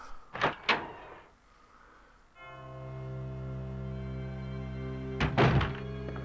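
A door opens in the Resident Evil 2 game: two quick heavy thunks, then a long low mechanical hum with ringing tones, ending in another clattering knock.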